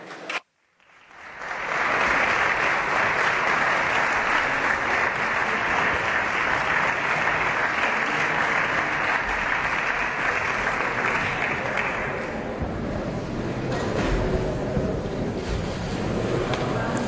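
Parliamentary chamber applause rises after a brief gap into a dense, steady roar of many hands clapping, sustained loud for most of the stretch before easing slightly toward the end.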